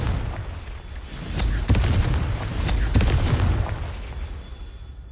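Confringo blasting-spell explosions from the Hogwarts Legacy video game burst out as a series of sharp, booming blasts, two or three standing out loudly over a rumbling, crackling game background.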